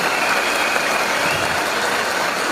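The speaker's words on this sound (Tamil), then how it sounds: "தூங்கின ஒருத்தர் கைதட்டுறாரு" A meeting audience claps hands in a steady, dense wash of applause that lasts throughout. The clapping is loud and even, with no voices standing out.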